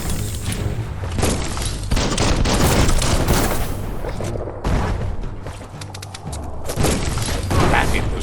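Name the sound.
bomb lobber explosions in the video game Biomutant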